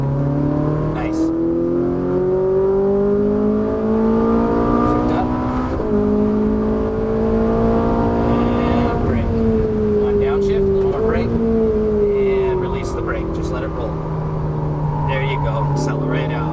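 Ferrari 458 Italia accelerating on a race track, its engine climbing in pitch through gears with brief dips at shifts, loud and close from inside the car, while a person talks over it.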